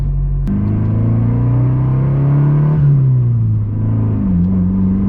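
A turbocharged Honda sleeper with a new clutch pulls hard in boost, its loud engine droning and climbing steadily in pitch, dipping briefly at a shift before rising again, heard up close from inside with no talk.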